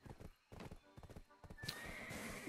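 A horse in a video game whinnies and its hooves clip-clop in quick bursts, loud and near, with no one talking over it.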